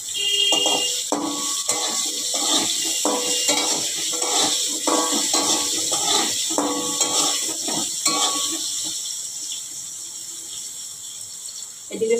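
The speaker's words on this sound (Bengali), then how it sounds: "এই যে কাঁকড়গুলো ভাজা হয়ে গেছে" Crabs fry in a pan as a spatula scrapes and knocks against the metal in quick, irregular strokes over a low sizzle, then the stirring stops and the frying fades to a quieter hiss.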